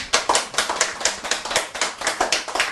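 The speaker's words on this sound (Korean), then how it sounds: "박수 한번 쳐주셔야죠." Indoor lecture audience clapping in a loose, uneven patter of many hands, moderately close and steady for a few seconds without talk.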